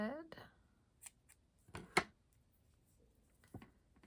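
Scissors cut red yarn while crocheting a fuzzy mushroom, a few soft crisp snips close by, with someone talking quietly around them.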